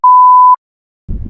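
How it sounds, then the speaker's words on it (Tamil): A single steady electronic beep from an alarm clock sounds for about half a second, loud and clear against silence, followed by a brief low rumble. "அலாரம் வைக்கிறேன், அலாரம் அடிக்கும்"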